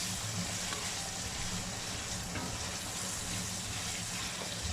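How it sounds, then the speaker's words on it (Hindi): Tomatoes fry in a pan with garlic for a mixed vegetable aloo matar gajar curry, giving a steady, even sizzle that holds at one level throughout, with no talk over it. "जैसे इसमें टमाटर जाएंगे अब हम इसको भूनेंगे।"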